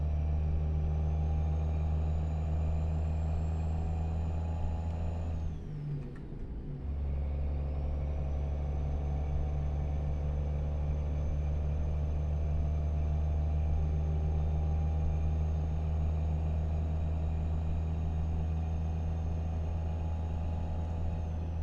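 Big rig engine in American Truck Simulator pulling away on a snowy road, a steady low diesel drone with a rising whine, broken briefly by a hiss and dip before the engine note climbs back and holds.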